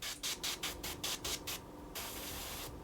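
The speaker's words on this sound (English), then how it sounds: "I'm also going to have to test the airbrush" An airbrush sprays paint in a series of short hissing bursts, about eight quick pulses, then settles into a longer continuous hiss after a brief pause, close and fairly quiet.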